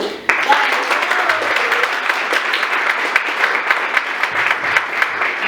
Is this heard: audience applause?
yes